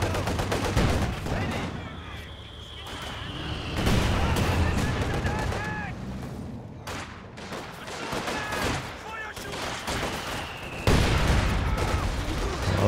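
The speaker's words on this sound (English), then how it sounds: "that's double heavy mortars from question mark" Heavy mortar fire and battle gunfire in Company of Heroes 2, a dense, continuous barrage of thumps and shots with whistling tones, heard under a commentator's voice.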